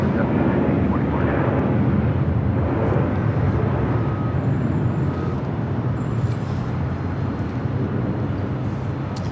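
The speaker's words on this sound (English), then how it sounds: "Crane Air A380 Super making that left-hand turn into taxiway Kilo." Broad steady jet roar from a Korean Air Airbus A380 taxiing and turning onto a taxiway at LAX, a continuous low rumble at moderate distance with faint talk mixed in.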